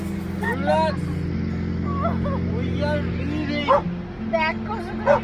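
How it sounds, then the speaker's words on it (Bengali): Two dogs bark and yelp insistently beside a parked car, high-pitched and uneven, over a steady engine hum and faint background chatter. "পাশেই দুটো কুকুর ছিল, এত চিৎকার করছিল যে কি বলবো"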